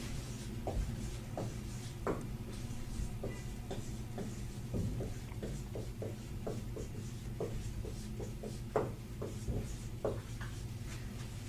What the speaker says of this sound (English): I'll just write that for you.